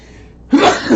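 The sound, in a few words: sneeze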